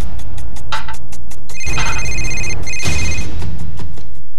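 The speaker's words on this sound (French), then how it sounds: "Le téléphone a sonné" A telephone rings loudly with a repeating electronic ringtone, rapid pulsing bursts and sustained tonal chirps filling the whole stretch close up.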